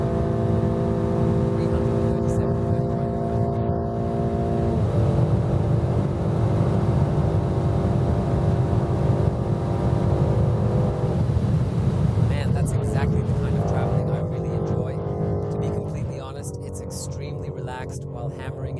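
A car at full throttle on the Autobahn gives a loud, steady engine roar with rising harmonic tones as it accelerates through gears toward top speed, with a voice talking over it.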